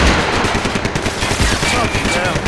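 Loud, continuous bursts of automatic and rapid gunfire in the Max Payne 3 video game, with a voice briefly audible through the shooting.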